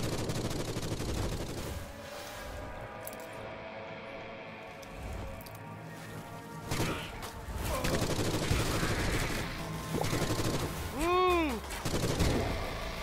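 A submachine gun firing in a video game, rapid bursts of shots with mechanical clatter and impacts, a quieter stretch midway, then louder dense firing near the end, along with other game effects.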